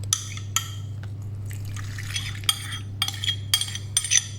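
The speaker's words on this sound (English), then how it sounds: "now that our yeast is already starting to bubble a little bit, I'm going to pour it into my well" Yeast mixture being poured into a well of flour for pissaladiere dough in a Nice cooking class, with soft liquid splashes and scattered clinks and taps, close and moderately loud over a steady low hum.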